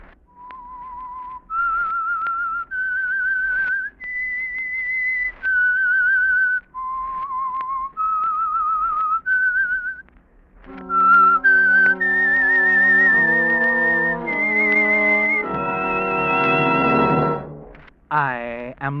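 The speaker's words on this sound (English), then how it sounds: "That whistle is your signal for the Signal Oil program" A man whistles a slow, eerie theme as a run of sustained, separate notes. A lone melodic line carried by an orchestra or organ then takes the tune and swells to a louder ending.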